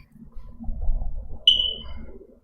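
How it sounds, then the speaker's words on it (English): A single short, high electronic alarm beep cuts in sharply over a low background rumble and murmur, then fades quickly. "sorry, that's my alarm."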